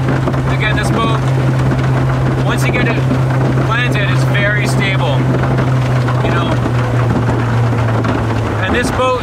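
An Allison Grand Sport boat powered by a Mercury 150 four-stroke outboard runs at high speed, a loud steady engine drone with rushing wind buffeting the microphone and someone talking over it.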